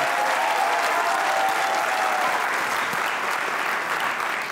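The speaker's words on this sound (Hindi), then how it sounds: "तालियां बजाइए।" A studio audience breaks into steady, dense applause that stays full and even throughout, with no voices over it.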